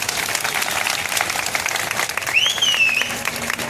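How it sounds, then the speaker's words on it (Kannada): Men seated in a temple audience during a Deepotsava lamp-festival inauguration in Hubballi break into loud, sustained applause, a dense wash of many hands clapping with crowd noise underneath. "ಗಂಡು ಮಕ್ಕಳು ಚಪ್ಪಾಳೆ."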